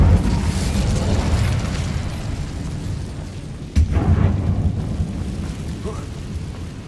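An Incendio fire spell is cast in Hogwarts Legacy inside a closed, cursed mine, giving a sustained rumbling whoosh with a sharp burst midway, loud and continuous without clear talk.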